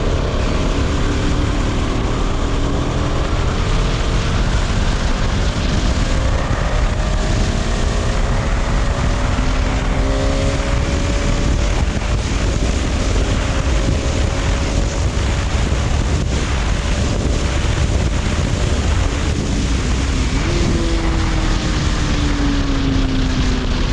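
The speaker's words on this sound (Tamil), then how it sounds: "ஃபர்ஸ்ட் வந்து நான் ரெவ் மேட்ச் பண்ணாமல் இப்போ ஒரு நல்ல ஸ்பீட்ஸில் போயிட்டு 6th கியர்லேருந்து 3rd கியருக்கு வந்து நான் அக்ரெசிவாக டவுன் ஷிஃப்ட் பண்ண போகிறேன்" A car engine drones loudly at speed under heavy wind noise, its pitch shifting as the driver aggressively downshifts from sixth to third gear without rev matching, letting engine braking slow the vehicle. No one speaks.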